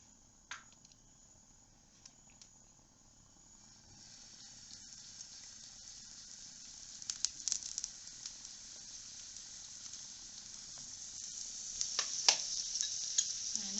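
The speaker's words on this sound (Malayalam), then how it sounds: "കുറച്ച് ഓയിലും കൂടെ ഒന്ന് ഒഴിച്ചു കൊടുത്തിട്ട് അടുത്ത ട്രിപ്പൂടെ ഒന്ന് ഇട്ട് കൊടുക്കാം" Bun parotta fries in oil on a hot pan, a steady sizzle that builds gradually and grows louder and busier toward the end, with occasional crackles and pops.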